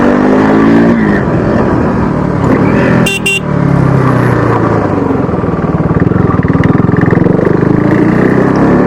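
A KTM RC 390 motorcycle rides along a road, its engine droning loud and close with a rising pitch, and a brief sharp honk cuts through partway.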